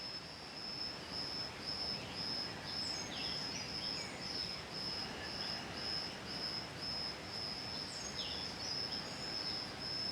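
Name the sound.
birds singing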